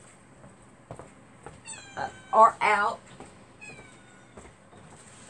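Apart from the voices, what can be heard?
cat meowing at the door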